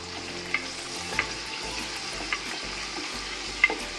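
Onion frying in oil with whole spices such as cinnamon, cardamom, cloves and black pepper, a soft continuous sizzle with occasional stirring clicks and scrapes from the pan.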